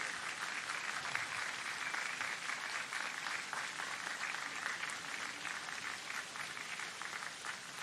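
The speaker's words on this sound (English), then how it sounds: "join me in giving them our heartfelt applause" A crowd claps steadily throughout at a college commencement ceremony, a dense, even wash of applause without pause.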